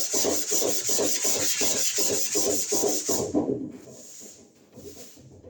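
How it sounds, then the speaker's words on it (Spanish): Rhythmic back-and-forth strokes of hand sanding over body filler putty, about a dozen even rasping passes before the rubbing stops and only a few faint scrapes remain. "Voy a lijar este sector para que quede lo más, digamos, lo más leve posible el salto."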